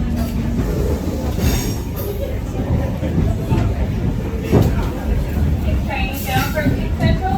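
An S28 heritage train arriving at Central Platform 18, with a rumbling carriage, rattling wheels and high squeals from the track, while people talk close by throughout.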